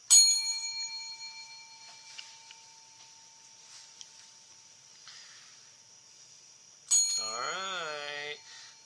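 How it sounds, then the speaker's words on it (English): A bell rung during a math class lesson, one bright metallic strike that rings out and fades over several seconds, then a second strike that rings again with a wavering sound over it. "when I ring the bell again, that means I'm going to start talking"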